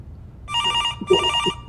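A telephone bell rings in two bursts during a live comedy radio show, fairly close and clear over a low room hum, with faint voice sounds between the rings.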